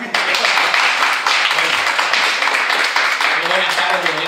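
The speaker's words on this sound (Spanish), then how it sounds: "Un aplauso para..." An audience at a book presentation in Madrid claps steadily for several seconds, a full, even wash of applause with no pause.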